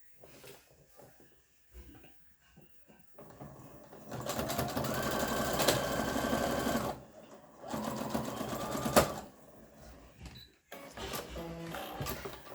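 A sewing machine runs in bursts while stitching fabric closed, loud rapid mechanical whirring in two long runs and a shorter one, separated by brief pauses with quiet handling sounds.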